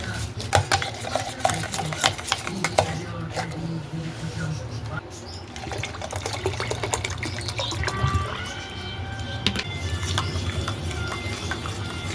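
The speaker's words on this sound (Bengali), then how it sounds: "টক দইয়ের ঘোলটা বানাতে বানাতে চামচ দিয়ে যত গোলাচ্ছি তত দেখো মাখন ওপরে ভেসে উঠছে" A spoon stirs sour curd in a bowl to make ghol, with repeated clinks and wet sloshing running steadily for several seconds alongside background household noise.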